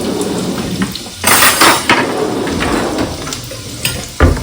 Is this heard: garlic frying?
yes